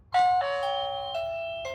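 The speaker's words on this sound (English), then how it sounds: "let me go ahead and ring the doorbell" An INFIYA M1 wireless video doorbell chimes close by, a sustained electronic ding-dong with several bright tones ringing out in quiet surroundings.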